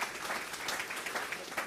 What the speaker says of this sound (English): Round of applause, please, for my panel.